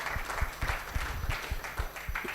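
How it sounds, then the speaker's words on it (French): An audience at an AI conference claps after a talk, with a continuous wash of many hands and soft rhythmic thumps running through the whole short stretch without talk. "Est-ce que vous pouvez applaudir aussi pour cette intervention?"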